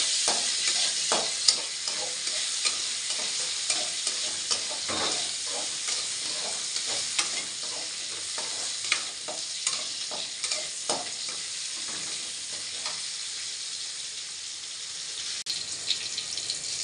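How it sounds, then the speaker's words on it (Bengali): Vegetable stems frying in a pan, a steady bright sizzle with repeated scraping stirs at irregular intervals, close and continuous, no speech. "ডাঁটাটাকে দিয়ে একটু ভেজে নেবো হালকা করে।"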